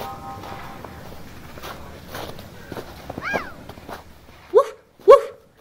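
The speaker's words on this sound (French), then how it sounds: "Aboya le chien." A dog gives two sharp barks near the end of a narrated French tale about a snowman, after quiet rustling, footsteps and a brief whine.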